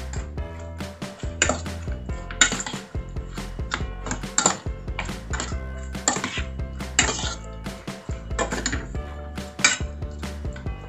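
Utensil stirring beef in a pan or wok while cooking Hong Kong-style beef, giving repeated metallic scrapes and clinks in an irregular rhythm, close and fairly loud, with no talking.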